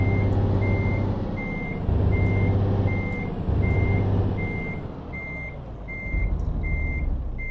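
A truck in Euro Truck Simulator 2 backs up with loud, evenly spaced reversing beeps over a deep, rumbling engine drone that surges and eases.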